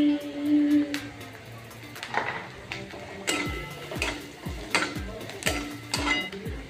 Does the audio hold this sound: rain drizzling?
no